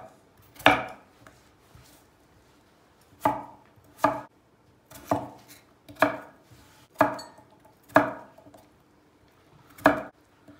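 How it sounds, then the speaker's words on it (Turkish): Sharp knife chops potatoes into cubes on a cutting board, about eight distinct strikes at an uneven, unhurried rhythm, close and clear with no talking. "Ciğerleri patates doğrayacağız. Patateslerimiz kuşbaşı olacak."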